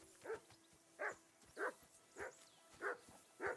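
Dog in a video game making about six short, evenly spaced barks and whimpers, moderately close and fairly quiet.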